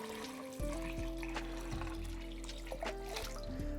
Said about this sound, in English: as we top this up with water,